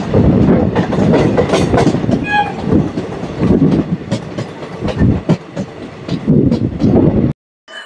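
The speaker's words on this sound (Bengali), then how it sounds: "ট্রেন আস্তে আস্তে শুরু করলো সারগাছি স্টেশনে।" A passenger train on the Azimganj–Krishnanagar line pulls slowly out of Sargachhi station, its loud, continuous rumble and wheel clatter on the rails running steadily before cutting off abruptly near the end.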